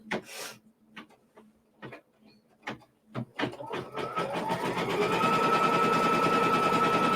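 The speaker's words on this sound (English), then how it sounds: "Bring this back in, and we're going to stitch this down." A sewing machine stitches down a quilt block, opening with scattered fabric handling and taps before settling into a loud, steady whirring run of stitching.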